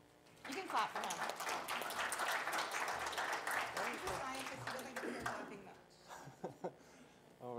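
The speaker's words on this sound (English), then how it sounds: "You can clap for him." Audience applause for a speaker at a conference parallel session, a steady wash of clapping for several seconds that tapers to a few scattered claps, with some voices near the end.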